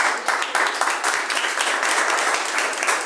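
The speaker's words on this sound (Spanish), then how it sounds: "Yo quiero que le den un aplauso al Señor." Sustained applause from a church congregation, dense and steady clapping throughout, fairly loud and near.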